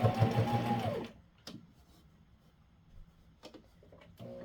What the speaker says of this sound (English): So I'm just going to start in one of the top corners and just start top stitching.